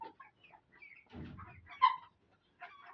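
Five-week-old broiler chickens on a poultry farm cluck and chirp in short, scattered bursts, with one louder squawk and a soft flutter, close by with quiet gaps between calls.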